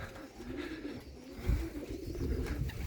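Low, soft pigeon cooing runs steadily through the background at a pigeon loft, a murmuring bird sound with no talking.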